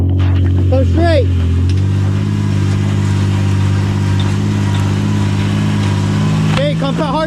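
A rock crawling buggy engine running in pouring rain on the Tahuya trails, a loud steady low drone with brief revving, while people shout directions over it.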